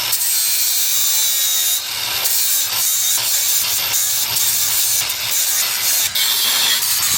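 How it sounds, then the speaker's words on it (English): A Milwaukee 2783-20 grinder grinding welds on the frame of a 3rd-gen Toyota 4Runner, a loud continuous harsh abrasive roar with rough shifting grit and a few brief dips as the disc moves, heard up close. "We're gonna grind the welds on the backside"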